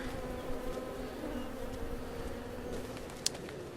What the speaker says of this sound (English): Gosh, more bees. This ground is just barfing up bees.